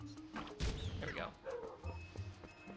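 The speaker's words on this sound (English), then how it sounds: "That is my dog." A pet dog barks a few quick, sharp yips close by, with some thumps and a clattering knock mixed in, while a person talks over it at moderate level.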